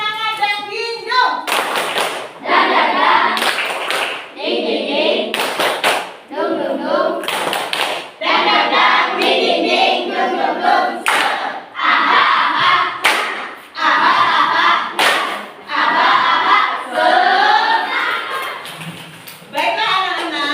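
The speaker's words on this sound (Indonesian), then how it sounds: "Yuk, tepuk semangat dan hidung." Classroom children perform a rhythmic clapping chant, bursts of loud group claps and taps recurring in steady patterns between chanted voices, close and lively throughout.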